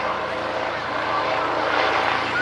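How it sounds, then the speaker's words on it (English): Rescue helicopter approaching overhead at a road traffic collision rescue demonstration at the Bristol International Balloon Fiesta 2017, a steady droning engine and rotor roar filling the air with no clear pauses. "Helicopters arriving."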